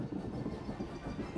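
A train rolls along rails in Star Wars: The Old Republic, a steady low rumble and hiss with faint rhythmic clatter, continuous and moderately loud with no voices.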